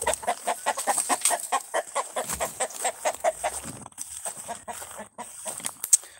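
Hens cluck and chatter in quick, uneven bursts near a coop in the evening, close and lively, with a few sharper squawks and a quieter stretch toward the end.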